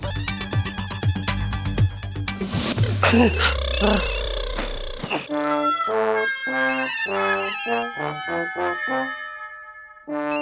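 A telephone ringtone rings loudly and repeatedly, first over a busy mix of music and noise, then alone as a clear melodic ring.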